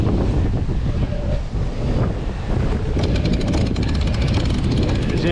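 Strong wind buffets a sailboat at sea, a dense, loud rushing roar that fills the air continuously with gusty surges and some background water noise.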